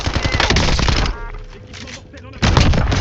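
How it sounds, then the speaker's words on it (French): Video game gunfire from Call of Duty Black Ops 7: dense, loud bursts of automatic fire that drop away briefly, then resume abruptly, with a voice speaking over part of it. "Ah, il me tire dessus."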